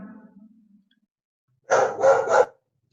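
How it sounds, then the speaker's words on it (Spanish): A puppy lets out a short burst of two or three quick, sharp barks close by, preceded by a faint voice and followed by silence. "Cachorro de quem que tá aí? Dando bronca. Está ladrando."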